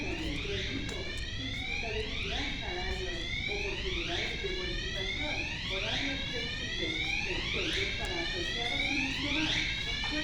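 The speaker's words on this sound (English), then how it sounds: "Appears to be an alarm for when the panel saw is running." A repeating electronic alarm at a Lowe's store near a running panel saw, sweeping up in regular cycles about once a second, steady and moderately loud over store ambience, with faint talk underneath.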